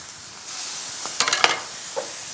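Garlic hitting a pan of sauteed peppers for ground turkey lettuce wraps, a steady soft sizzle that swells into a brief burst of louder crackling and spatter before settling back.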